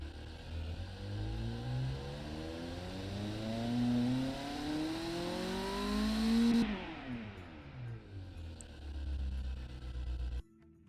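A car engine with tubular headers, a straight-flow muffler and a reverse-flow muffler revs up steadily through its exhaust, drops sharply, then settles back to a low idle before cutting out.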